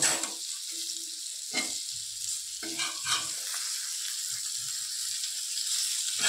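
Fish pieces frying in a small amount of oil in a pan, a soft steady sizzle with a few sharper scrapes and taps as the pieces are turned, close and fairly quiet, no speech.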